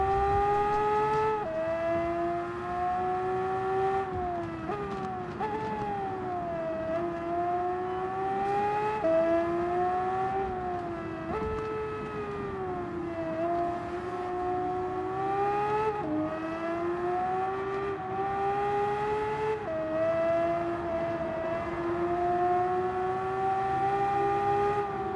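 A Nissan Skyline GT-R R34 engine in Gran Turismo 7 drones steadily as the car is driven, pitch rising through gears and dropping at each shift in a repeating pattern, heard alone without talk.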